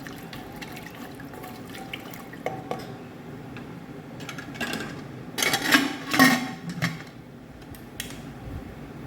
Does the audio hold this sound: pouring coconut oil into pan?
yes